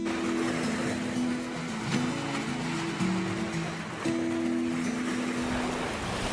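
Sea waves on the beach at Diu wash in as a steady, broad rushing surf, with a sustained tonal hum from a motor or boat drifting underneath at moderate distance.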